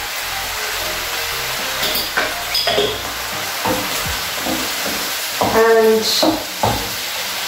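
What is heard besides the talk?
beef frying and sizzling in a pot for Ugandan stew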